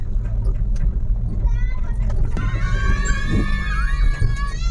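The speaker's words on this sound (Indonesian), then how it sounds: "Ini pakai mobil pick up biasa karena rombongan rame-rame biar muat dan seru ya bun." Ordinary pick-up truck carrying a group of passengers in the open back, its engine droning steadily close by while excited children's voices and chatter ring out over the road noise.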